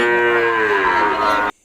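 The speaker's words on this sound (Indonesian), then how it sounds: "sapi" One cow bellows a long, loud, close moo that holds steady for about a second and a half before cutting off abruptly into silence.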